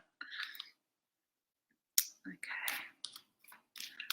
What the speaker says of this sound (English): I think it's nice and well shuffled